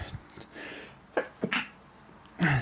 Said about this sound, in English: 35 seconds in and we're having a sneezing fit.